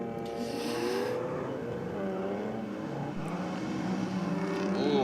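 A Pontiac Tempest-era Tirana drag car accelerates down the racetrack's rocket lane in a steady, distant engine drone that rises in pitch through the gears, with no talk over it.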